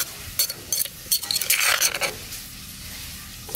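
Bird meat and bruised lemongrass are stirred in a pot, giving scraping clinks of a utensil against the metal with a faint sizzle, in irregular bursts close by.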